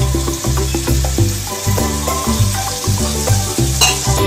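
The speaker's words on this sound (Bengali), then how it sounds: "এখন এটাকে এরকম ভালো করে কষতে হবে, তেলের মধ্যে ভালো করে আগে নেড়ে চেড়ে কষিয়ে নিতে হবে।" Chicken being stirred and fried in oil for a homemade butter chicken, a steady close sizzle with repeated scraping stirs and clinks of a utensil in the pan.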